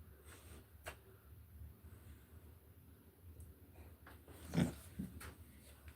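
A small, elderly dog grunts and snorts close by, faint soft breathy snuffles with one louder snort near the end, alone without talk.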